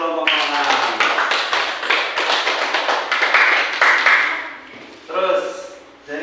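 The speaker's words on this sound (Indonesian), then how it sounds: "Tepuk tangan untuk kelompok orang." A classroom claps for a student group, giving a few seconds of quick, uneven applause that rises and then tapers. Voices and a brief tonal sound show up near the end.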